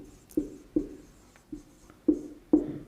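Chalk or marker strokes on a classroom board during a chemistry lesson, five distinct tapping strokes spaced at roughly even intervals, close and fairly loud in a quiet room with no voices.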